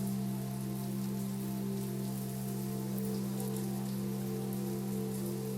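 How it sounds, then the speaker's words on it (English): Rain falls in a soft, constant patter over a steady low hum, unbroken and even throughout with no voices. "let the rainfall relax you"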